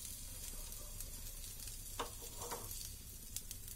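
Black chickpea mixture cooks on a hot tawa over a medium-low flame, giving a steady close sizzle with a few brief crackles and no one speaking.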